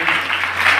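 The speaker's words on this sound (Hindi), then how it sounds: "एक बार और तालियां" Steady, dense clapping from an audience fills an award ceremony held in a city hall, a continuous wash of applause with a voice faintly underneath.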